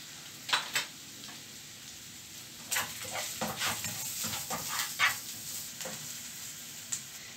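Sausages frying in a pan with black pepper added, giving a steady sizzle broken by sharp scraping and stirring clatters from a utensil, close up, with no talking.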